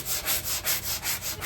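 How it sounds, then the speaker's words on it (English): Hand sanding a wooden TV cabinet with 400 grit sandpaper, a close, steady back-and-forth rasping with a regular rhythm of about five strokes per second, heard alone. "I'm just using a 400 grit to sand it out pretty smooth"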